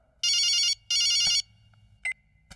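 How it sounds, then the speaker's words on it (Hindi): A mobile phone rings indoors in two loud electronic bursts, followed by a short softer beep and a click. "किसका फोन बज रहा है ये?"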